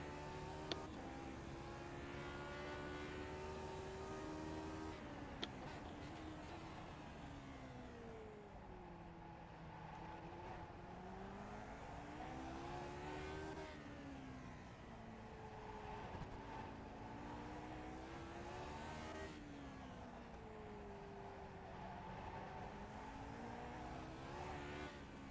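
A Lotus 49 race car in the iRacing simulator laps the Belle Isle circuit. Its engine drones steadily and loudly, pitch swinging up and down repeatedly through gear changes and corners, with no talk.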